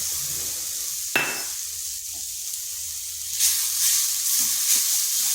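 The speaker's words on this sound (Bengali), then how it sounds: "নারকেলটাকে একটু নেড়ে নিচ্ছি যাতে তার কাঁচা গন্ধটা চলে যায়।" A steady sizzling hiss from grated coconut stirred in a hot pan, with a few sharper scraping stirs and a brief louder burst, close by and without any talking.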